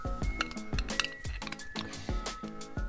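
A small metal main jet dropping out of the carburetor of a Predator 4000-watt generator, giving a few light, close metallic clinks and taps over roughly three seconds, quiet and isolated.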